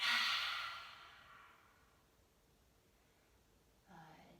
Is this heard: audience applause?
no